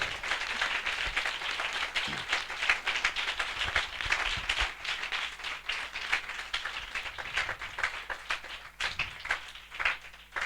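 A congregation at a church assembly claps and applauds in a dense, steady patter that carries on without a break for about ten seconds, with no speech standing out.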